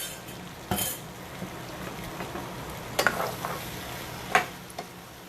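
Egg sizzles in a pan with bitter gourd while being stirred, a soft continuous frying hiss broken by a few sharp scrapes and clinks of the utensil.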